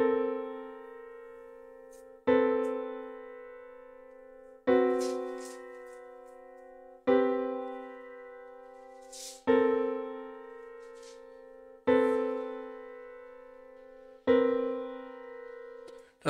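A series of sustained chords plays in order, each struck cleanly about every two and a half seconds and left to ring and fade before the next, with a soft attack click at each change.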